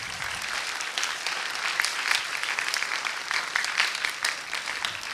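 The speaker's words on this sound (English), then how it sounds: "let's give them a warm round of applause." Audience at a talk held in the national library of Malaysia clapping for the speakers and moderator, a dense, fairly loud and even burst of applause lasting several seconds.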